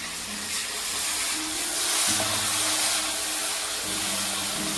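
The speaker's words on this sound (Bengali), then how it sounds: "মশলাটা ভালোভাবে কষিয়ে নিচ্ছি" Spice paste with a splash of water sizzles and hisses in hot oil in a pan for a fish, taro and eggplant curry, a steady broad frying hiss with faint low hum underneath.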